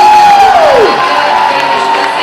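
A large crowd cheering and whooping to welcome a guest at a ceremony honouring the Maharaja of Rajasthan, loud and sustained, with a descending whistle-like tone fading into the roar in the first second.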